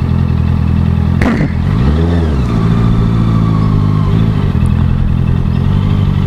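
A Honda CBR 650F inline-four motorcycle engine runs steadily and loudly up close, with one sharp rev rise and fall partway through and a continuous low drone.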